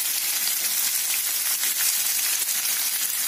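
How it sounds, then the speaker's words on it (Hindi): Onions, garlic cloves and green chillies sizzle in hot oil in a pan for a bitter gourd curry, a steady close hiss that runs unbroken throughout with no talking. "प्याज को ब्राउन होने तक पकाएंगे"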